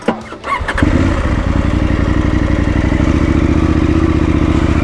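A motorcycle engine cranks and catches after a short clatter, then settles into a loud, steady idle close by.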